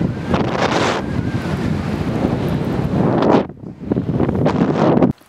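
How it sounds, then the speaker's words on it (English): Strong coastal wind buffets the microphone in loud, continuous gusts with a brief lull near the middle, then a sudden cut at the end, with no voices heard. "it's very, very windy here"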